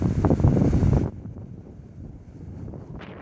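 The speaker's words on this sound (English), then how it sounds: "I said it's kind of windy out here." Strong wind on the Cabot Trail in Nova Scotia buffets the microphone during a motorcycle trip, a loud roaring blast for about a second before dropping to a lower, gusty rumble.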